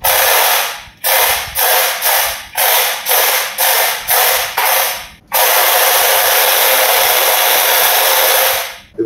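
A mini 24V battery-powered tea harvesting machine with 19 teeth runs alone and up close, its broadband whir cut by nine quick bursts of trigger pulses before settling into one long, steady, continuous run.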